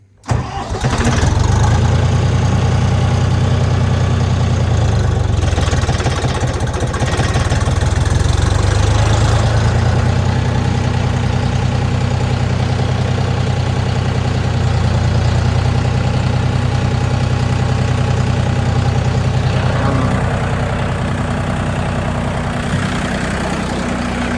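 A DTZ 354U tractor's diesel engine starts by key and settles into a steady, loud idle with a deep rumbling throb that continues throughout.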